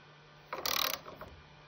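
A 60 mm metric screw is driven into a wooden plate with one short, close ratcheting creak of rising resistance lasting under half a second, surrounded by quiet.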